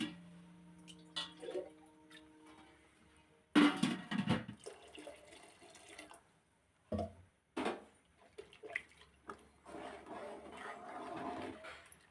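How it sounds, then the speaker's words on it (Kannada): Water is poured into a pot of sprouted moong dal sambar in several uneven splashing bursts, with quiet pauses and a faint clatter between pours. "ಇದಕ್ಕೆ ಹದವಾಗಿ ಎಷ್ಟು ಬೇಕು ನೀರು ಅಷ್ಟು ಹಾಕೊಳ್ಳೋಣ"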